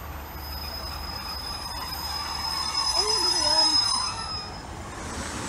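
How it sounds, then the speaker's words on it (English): A tram at Meadowhall Interchange station in Sheffield rumbles along the rails, its wheels giving a sustained high metallic squeal over a steady low rumble that swells and then eases, heard at close range without talk. "So we're about to get on the tram"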